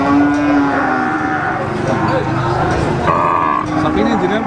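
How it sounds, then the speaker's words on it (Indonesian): Cows at a cattle market in Ngawi, East Java, moo repeatedly in long drawn calls, close and loud over a steady busy market din, with voices faintly in the background. "Ini sapi-sapi betina."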